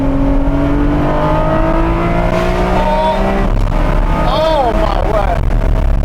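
Ferrari 599 SA Aperta V12 howling through its exhaust, loud rising revs that fall away and then climb again, with a man exclaiming over the noise.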